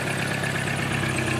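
A 2000 Volkswagen Jetta at a junkyard idles steadily just after start-up, a close, even, continuous engine hum with a faint low rumble; an exhaust leak is noted under the car.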